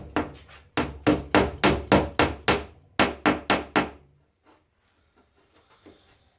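A wooden peg tapped with a hammer through a breadboard end on a wooden table top: about a dozen close, sharp blows in quick rhythmic bursts, then quiet with faint handling noises.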